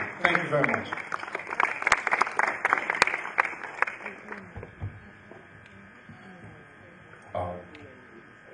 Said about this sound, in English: I would love us to give him one more time round of applause